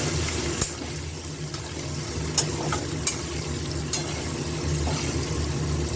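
Onions fry in a pan for a chicken kasha, a steady close sizzle running throughout with occasional sharper clicks of stirring and spatter.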